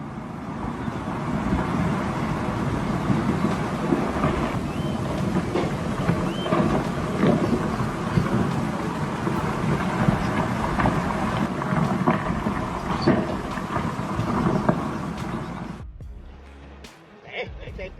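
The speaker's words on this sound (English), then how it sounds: "Rocks and mud came thundering down in Aba County, Sichuan" A landslide of rocks and mud in Aba County, Sichuan, sends a continuous loud rumbling roar with gritty crashing texture that holds steady for many seconds before dropping away abruptly near the end.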